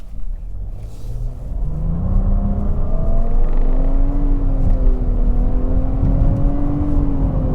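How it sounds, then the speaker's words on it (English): A 2022 Nissan Rogue Platinum SUV accelerates steadily, its engine pitch climbing smoothly over a continuous low road rumble, loud and close. "We'll just try a little acceleration."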